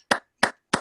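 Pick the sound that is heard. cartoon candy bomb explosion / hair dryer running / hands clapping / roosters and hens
hands clapping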